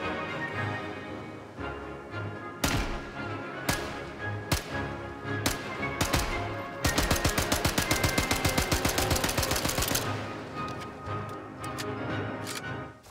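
An M3 Grease Gun submachine gun in the video game Sniper Elite 5 fires scattered single shots, then a sustained rapid burst of about three seconds, followed by a few more isolated reports, loud and sharp.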